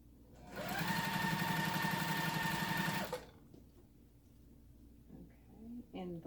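A sewing machine chain-piecing quilt pieces for a shamrock wallhanging runs in a steady, loud burst for about two and a half seconds, then stops, leaving faint handling noises and soft movement.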